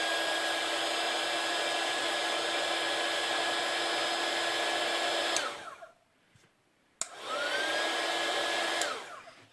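Heat tool blowing to dry glue on a paper flower craft, a loud steady whine that cuts off, restarts with a click, runs again and stops.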